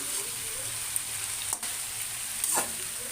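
Ginger and green chilies hitting a hot pan of frying vegetables: an even, loud sizzling hiss with a couple of brief clinks from stirring, no voices.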